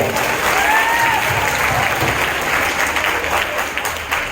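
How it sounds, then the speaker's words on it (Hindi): An audience at a school prize-distribution ceremony for a costume competition claps in a steady, dense round of applause that holds loud and then thins slightly toward the end. "तालियां बजाइए।"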